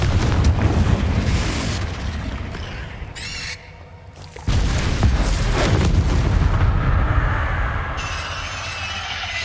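A Confringo fire spell in Hogwarts Legacy goes off amid loud, dense game combat noise, with heavy booming blasts, a short dip in volume midway, then a strong renewed roar.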